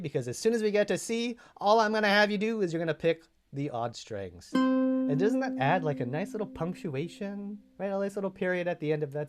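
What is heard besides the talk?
None of the usual background noises is heard.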